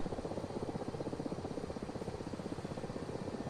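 Aircraft engine in a flight simulator game during a takeoff run, a loud continuous droning engine with a fast regular pulsing beat, no talking.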